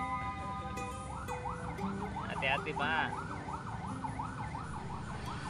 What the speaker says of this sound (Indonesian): Wah, ada ambulan nih lewat belakang nih.